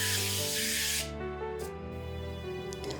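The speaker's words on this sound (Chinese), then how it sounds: "发酵盆或是烤盘喷一点油防粘" Oil is sprayed onto a proofing tub or baking pan for focaccia dough in one loud, close hiss lasting about a second, followed by quieter background sound.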